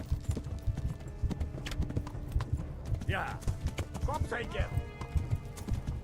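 Rapid, rhythmic clip-clop of horse hooves while riding toward Talmberg in a video game, with a couple of whinnies from the horse and a player's voice talking over it.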